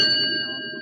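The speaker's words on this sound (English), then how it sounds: "George, what's the bell for?" A single bell struck once in an old-time radio drama, its clear metallic tone ringing on and slowly fading over a low background hum, with no voices.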